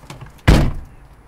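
A car door slams shut with a single loud, close thud, standing alone after a brief quiet moment.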